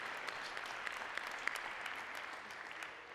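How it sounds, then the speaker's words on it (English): Faint, distant audience applause for a nonprofit founder at an open house on a 35-acre campus, a steady soft patter of clapping with a few sharper claps standing out, no voices over it. "If you give Jenny Crusoe a big round of applause"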